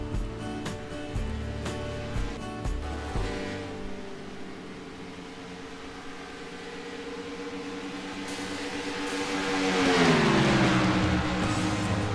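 Race cars roar past the start-finish line at over 200 mph, a loud sustained engine howl with a rising, sweeping pitch that swells toward the end as a car passes close.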